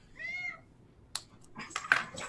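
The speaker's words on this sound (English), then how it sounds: "This is one of the very loud cats that I am currently hosting." A loud cat gives a drawn-out meow, followed by a couple of shorter, scratchier meows and small noises nearby, close and clear with no speech.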